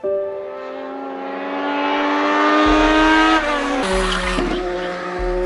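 A race car on a track, loud and close, its engine revving with rising pitch and then shifting gears as it accelerates hard, with tire noise under the roar.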